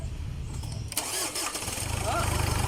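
A Ford Everest engine, left standing unused for over a year, cranks and catches partway through, then settles into a steady, close idle rumble under background talk.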